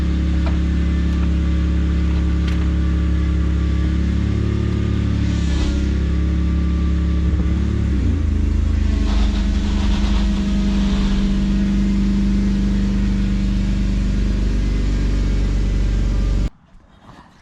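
An old Toyota Land Cruiser 80 Series (Lexus LX450) engine with a major exhaust leak idles steadily with a loud low rumble and raspy, ticking exhaust noise throughout, revving slightly midway, then cuts off abruptly near the end.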